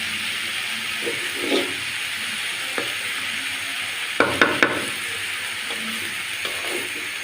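Food fries in a pan with a steady loud sizzle, while a utensil stirs it with soft scrapes and a few sharp clinks against the pan.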